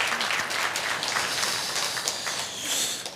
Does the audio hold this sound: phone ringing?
no